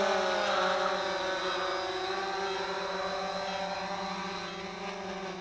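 A Cheerson CX-20 quadcopter drone flies in to land on a road, its propellers giving a steady, buzzing whine that stays close and slowly fades slightly as it descends.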